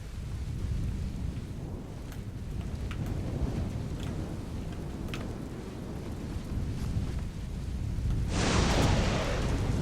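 A lightning orb spell strikes repeatedly in the fantasy game Fictorum, a steady crackling, rumbling roar like a thunderstorm that swells into a louder, brighter burst near the end.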